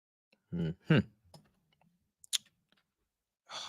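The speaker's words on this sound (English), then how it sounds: "Keyboard's gonna rattle me a lot today now because I'm not used to using this." Computer keyboard typing in a quiet room: a few sparse, sharp key clicks and taps, with short bursts of a voice talking in between.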